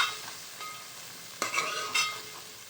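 Cluster beans are stirred into masala in a hot pan, giving a soft continuous sizzle. Two brief scraping strokes of a spoon stand out near the middle, with no voices.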